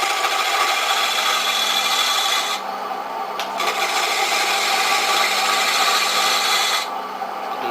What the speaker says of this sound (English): We turn it on, and then we take the chisel and take the corners off of it.